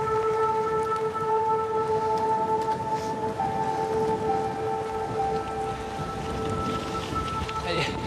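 Heavy rain pours steadily, a dense hiss throughout, over a sustained tonal drone along a hiking trail where a small group of cyclists ride through the downpour.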